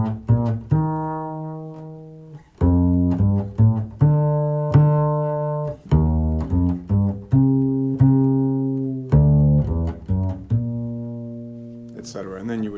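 A solo bass plays a slow jazz melody, plucked notes sustaining and fading one after another, clear and close with no talking.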